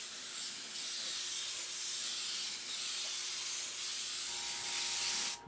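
A continuous loud hiss of an aerosol can of wood stain spraying onto scratched wood, close up and steady for several seconds before cutting off abruptly.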